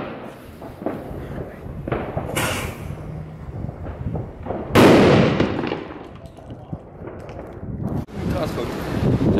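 A Polish Jumbo Cracker firecracker goes off in a burnt pot outdoors with one sharp, loud bang. Gusty wind noise and people talking surround the blast.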